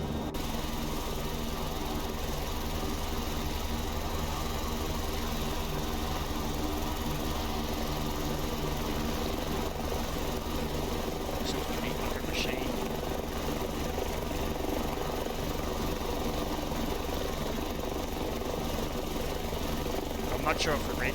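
A simulated AS350 helicopter in flight in X-Plane 11 at Helisika, giving a continuous droning turbine and rotor hum that stays steady and even for the whole stretch, with a few faint brief chirps near the end.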